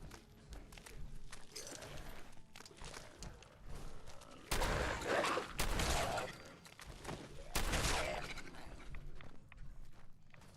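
Shotgun fire in Fallout 4: a few loud, sharp blasts spaced several seconds apart stand out over a quieter bed of scattered clicks, footstep-like taps and movement noise.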